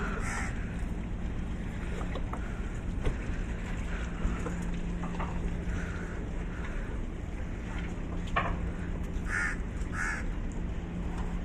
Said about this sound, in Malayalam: കാക്ക കരയുമ്പോഴേ നാടിനെ ശരിക്കും മിസ് ചെയ്യാണ്